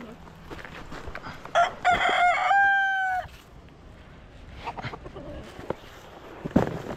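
Roosters and chickens at a rural spot ahead of an approaching typhoon, with a loud, drawn-out crow near the middle over steady background noise and scattered clucks.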